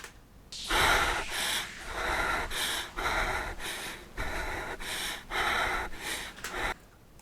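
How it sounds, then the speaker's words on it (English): Breathing layered as an atmospheric texture in an edgy pop song: a steady series of close, airy inhales and exhales in a regular rhythm, each breath swelling and fading, alone over about seven seconds. "I wanted to add some breathing just to add a bit of nuance"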